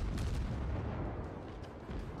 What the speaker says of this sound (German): aber auch die Explosion sehr schön